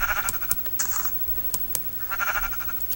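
Sheep bleating in the Paper Minecraft 1.19 video game, a few short bleats coming in two bursts amid clicking keyboard taps and faint background noise.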